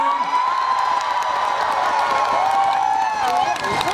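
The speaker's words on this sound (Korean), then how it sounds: "큰 박수 한번 주시겠어요?" A crowd at a Korean football-themed song festival applauds and cheers loudly for a singer, steady clapping and shouts under a voice, with a sustained tone running through.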